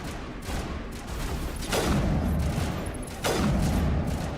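Video game gunfire: a dense, continuous run of shots and booms, with two louder blasts about halfway through and near the end, filling the whole stretch without any speech.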